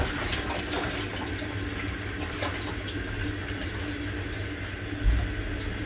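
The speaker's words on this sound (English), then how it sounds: "I'm just going to run them under the hot tap to bring them up to temperature" Hot water runs steadily from a kitchen tap over carrots in a sink, a close, continuous hissing splash with a brief louder gush near the end.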